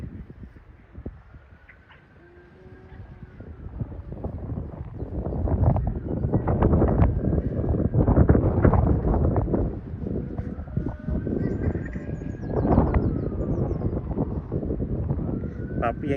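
Strong gusty wind buffets the microphone during a kite flying session with a 95 cm Thai chula kite. The rumble starts softer, then swells into sustained loud roaring gusts with a few faint background sounds.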